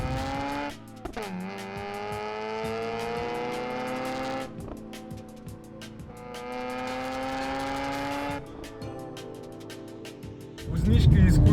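A Mazda RX-8 with a Wankel rotary engine revs hard through rising gears, each climbing whine cut by a quick shift, sustained and loud inside the car, ending in a low rumbling burst.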